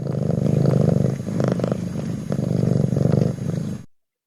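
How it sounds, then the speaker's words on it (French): A cat purrs on a lap in a steady, close, rhythmic rumble that pulses with each breath and stops abruptly near the end. "Mon chat Sosa ronronnait sur mes genoux"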